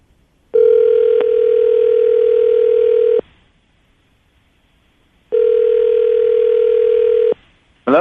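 Telephone dial tone while a call is placed, a steady loud electronic tone sounding in two long blocks of about two and a half seconds each, separated by a silent gap, with a brief chirp at the end.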